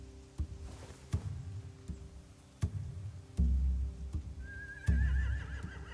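Video game horses snort and whinny amid a few sharp thumps and hoof-like knocks, including one high, shaky neigh near the end, at moderate loudness.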